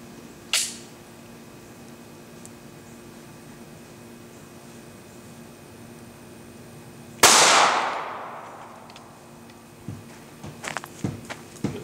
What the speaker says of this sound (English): here we go with that 135 grain flex lock. Let's check it out, guys, out of the Glock 26, baby Glock.